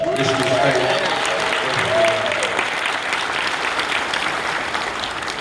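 Steady applause from a conference audience fills the clip, with a voice speaking briefly over the clapping near the start.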